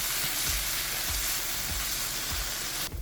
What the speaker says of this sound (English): We need to caramelize the paste at this point. Cook it for 30 to 45 seconds.